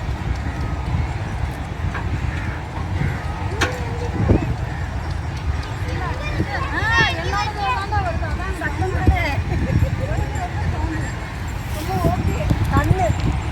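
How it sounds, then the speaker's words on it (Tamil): Horse ridden along a beach, hooves clip-clopping in an irregular rhythm beneath lively talk and a general crowd hubbub. "அவன் பாத்தியா குதிரை மேல உட்காந்து எப்படி வராம ராஜா மாதிரி."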